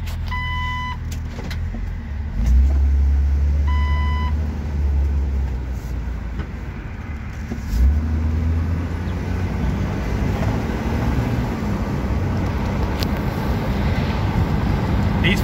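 Road noise and steady engine drone from a 2001 Jeep Wrangler TJ with a 4.0 engine and automatic transmission, driving continuously for the whole stretch, with no talking.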